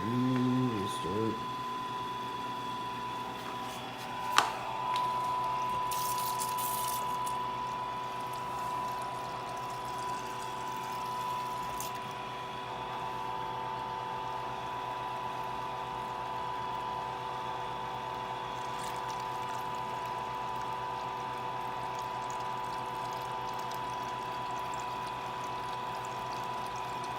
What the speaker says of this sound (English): then I'm gonna turn my pump on